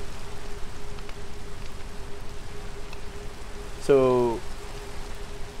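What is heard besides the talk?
rain in Minecraft video game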